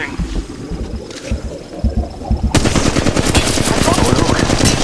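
Machine gun fire in a video game firefight, softer scattered shots at first, then a loud continuous rapid burst of automatic fire that dominates the second half.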